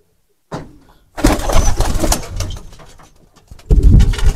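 Pigeons in a pigeon loft give low, throaty coos, close and fairly loud, in bursts separated by short pauses.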